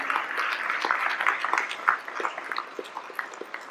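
A church congregation claps in a short, fairly distant burst of applause that fades out, with scattered voices in the room.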